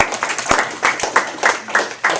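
Debate audience applauding after a policy speech at a university debate event, a burst of fairly loud, quick, irregular clapping from many hands filling the room.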